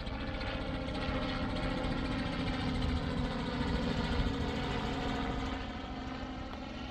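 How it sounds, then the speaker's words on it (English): A helicopter flying overhead: steady, loud engine drone with a low rotor-like throb, holding constant throughout and easing slightly near the end; no voices. "It's a helicopter."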